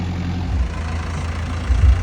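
A Heera 855 tractor engine runs in a field with a steady low rumbling idle, loud and close, with a couple of brief surges in the throb.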